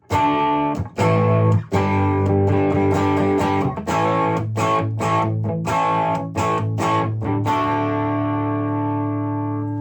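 Distorted electric guitar on the single-coil bridge pickup, with a bright, biting tone, plays loud, sustained chords and riffs with short choppy breaks, no voices.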